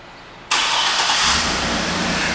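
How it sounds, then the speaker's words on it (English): A white 2012 Cadillac Escalade ESV engine starting by remote start, a sudden loud crank that catches and settles into a steady idle, close by with no talk. "One of the many features in this vehicle is the remote start"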